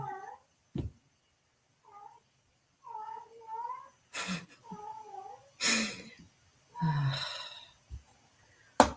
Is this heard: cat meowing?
yes